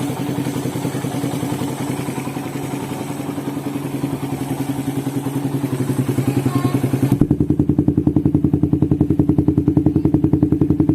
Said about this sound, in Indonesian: Untuk bunyi knalpotnya sangat merdu ya, sangat gahar.